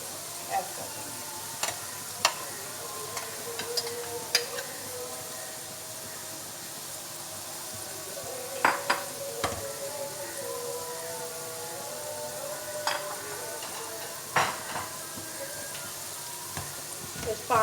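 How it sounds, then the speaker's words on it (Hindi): Mashed brinjal for baingan bharta fries in masala with a steady sizzle, punctuated by sharp scrapes and clicks of a spoon stirring against the pan at irregular intervals, no talking. "बस 5 मिनट के लिए हम इसे भूनेंगे।"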